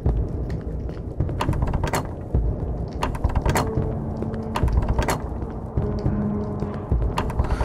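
Locked door handles rattle and clatter in the horror game Cry of Fear, with repeated sharp metallic jiggles and knocks over a dull ambient drone, loud and close.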